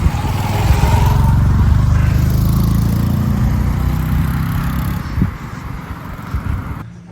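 A group of motorcycles rides along a road on the Devil's Staircase route in Sri Lanka. Several engines drone and rumble together, loud and close, easing off slightly toward the end.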